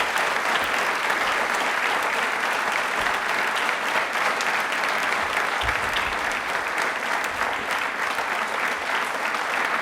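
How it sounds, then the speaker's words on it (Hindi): An audience at an Independence Day quiz programme applauds for the three armed forces, dense, loud, sustained clapping that fills the whole stretch without a break. "तालियां एक बार तीनों सेनाओं के लिए"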